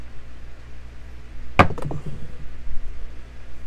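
Dice strike a bouncy craps table with one sharp loud clatter followed by a few quick, fading rattles as they settle, heard alone in a quiet room.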